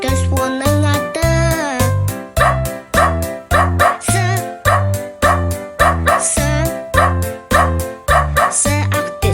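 Barks in a children's song, sung as short rhythmic syllable bursts in steady succession that seem voiced like a dog, over bright music.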